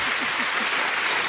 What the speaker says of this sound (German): Sanften Applaus.